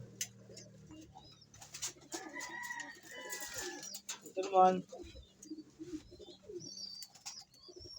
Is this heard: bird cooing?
yes